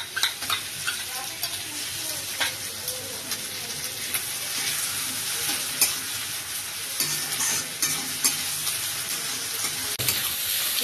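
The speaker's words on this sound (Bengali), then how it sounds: "আর এই পাশে মাংস দিয়ে পেঁয়াজটা ভাজা হচ্ছে।" Chicken and onion sizzle and fry in a pan with garlic paste, a steady close crackle broken by repeated scraping stir strokes throughout.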